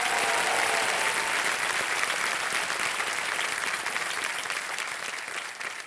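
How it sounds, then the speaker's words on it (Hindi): A studio audience at a televised quiz show claps loudly for a female contestant, a dense, sustained burst of applause that stays strong and then slowly tapers toward the end. "तालियां बज जाएं इनके लिए।"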